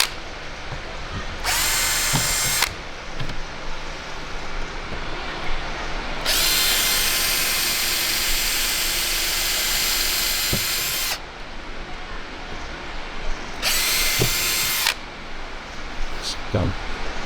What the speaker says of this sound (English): when you're drilling in the holes, do not over drill and drill through the aluminum frame to the outside